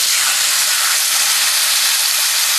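Food rubbed with olive oil sizzles in a pan, left untouched on one side: a loud, steady, even crackling hiss that holds without a break.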